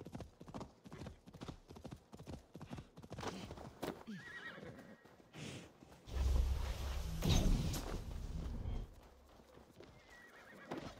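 A horse in Assassin's Creed Valhalla gallops with steady clip-clop hoofbeats, then lets out a loud neigh and whinny midway, with faint game sounds around it.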